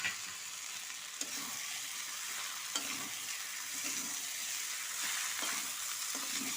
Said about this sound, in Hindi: आलू भी साथ में भुने जाएंगे